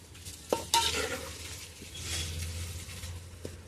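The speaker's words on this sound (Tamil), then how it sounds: "நல்லா வதக்கிக்கலாம்" Salted food sautés in a pan, a low steady sizzle with a couple of sharp spoon knocks against the pan early on and continuous scraping stirs throughout, close and clear with no talking.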